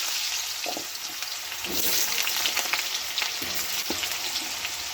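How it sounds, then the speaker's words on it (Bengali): Small potato pieces frying in oil in a pan where black cumin seeds are already toasting, with a steady crackling sizzle and a few louder spits, close by and continuous with no voices. "আলুটা একটু ভেজে নেব।"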